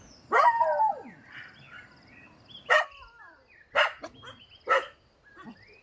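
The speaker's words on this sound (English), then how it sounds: "he is eagerly greeted by his dogs" Dogs bark in greeting at a family's thatched shelter in rural Kerala: one long yelping bark, then three short separate barks spaced about a second apart, fairly close, with birds chirping faintly behind.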